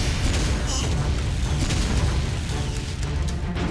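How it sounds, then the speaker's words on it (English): A cartoon laser gun fires a loud, sustained blast with a booming, explosive roar that fills the whole stretch without a break. "Blue Bolt's gun, fire!"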